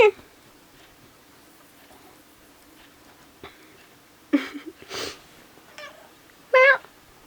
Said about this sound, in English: my cat is now crying in the other room